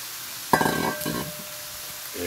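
Onions and garlic drop into a hot pan and burst into a loud, close sizzle that fades over about a second, followed by quieter frying and a faint clink.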